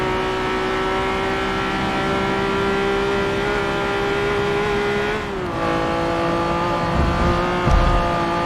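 Honda NSX-R racing around the Nordschleife in Forza 7, a steady high-pitched engine drone with a brief dip in pitch, then low rumbling buzz as the tires cross rumble strips near the end.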